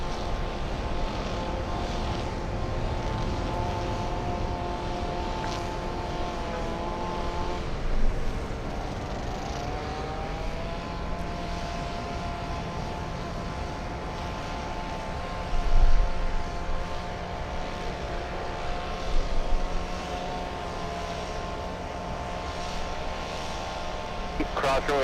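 A Delta airliner arrives at LAX after a flight from Haneda, its jet engines a steady broad roar with whining tones that shift in pitch, under continuous airport ambience and occasional radio-style voices.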